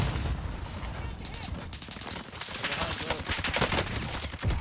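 Rapid pistol fire from dual Diamatti akimbo handguns in Warzone, a dense, continuous crackle of shots with explosions and game noise throughout; a voice talks briefly over the fighting.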